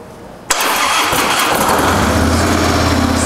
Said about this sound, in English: See if I can get it to start so we can see what she sounds like with the factory exhaust system.